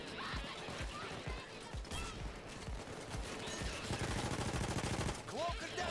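Steady automatic gunfire from a large-magazine gun in a heist shooter, a dense run of close, punchy shots with brief pauses, heard over busy game noise.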